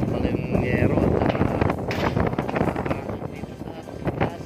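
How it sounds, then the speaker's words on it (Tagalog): Strong wind buffets the microphone on a slippery corrugated metal roof during an insulation and roofing-sheet job in Pangasinan, a steady rushing roar with gusty swells throughout. "Medyo mahangin."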